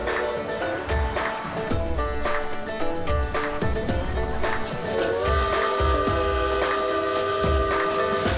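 Georgetown Loop Railroad train in motion, with a loud sustained horn or whistle tone over rhythmic rumbling wheel thumps and clatter, heard up close from on board.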